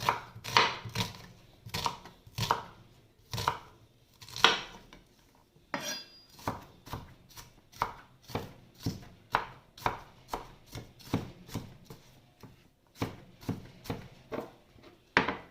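An onion is chopped with a knife on a cutting board in a home kitchen, with a long run of crisp, separate chops in an uneven, fairly quick rhythm, close and clear, and no talking.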